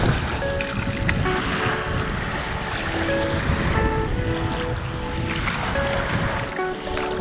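Sea waves on a sandy beach in Greece, a steady, loud wash of surf with wind buffeting the microphone and no break throughout.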